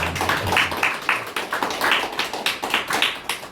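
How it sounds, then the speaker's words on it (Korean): A small church congregation at a Korean ordination service claps in a sparse, fairly regular rhythm of distinct hand claps, moderately close and unaccompanied by speech. "박수하겠습니다"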